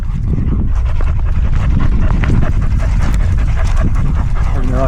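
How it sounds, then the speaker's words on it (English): A dog named Chilli pants and scampers about outdoors, close and steady across the whole stretch, with rustling movement and a person talking over it. "We found another dog over here"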